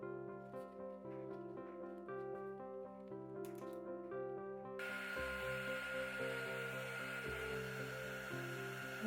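A heat gun starts halfway through and blows a steady, breathy rush of air onto rice paper peony petals for a cake topper. It runs under soft background music that plays alone at first.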